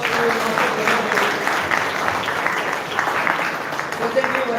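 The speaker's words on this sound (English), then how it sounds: "Give a big round of applause to Master Bharat Bhoge." Audience applause for a commerce student topper at a higher secondary school felicitation ceremony, a steady wash of many hands clapping throughout with some voices mixed in.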